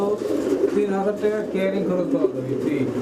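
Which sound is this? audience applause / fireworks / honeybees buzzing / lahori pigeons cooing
lahori pigeons cooing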